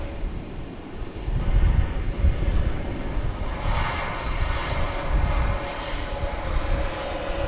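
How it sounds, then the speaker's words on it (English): Boeing 787 Dreamliner jet on approach to DFW Airport at sunrise, a steady, loud broadband engine roar that swells slightly and holds throughout with no talk. "So here comes the Dreamliner from the islands."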